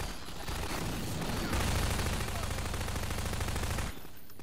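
Sustained automatic turret gunfire from a duct-taped turret in Half-Life 2: Episode Two, a dense rapid rattle running for several seconds at steady loudness before cutting off abruptly.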